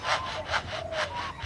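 A lyrebird imitates a handsaw cutting wood: four clear rhythmic rasping strokes, close and fairly quiet, alone with no talk.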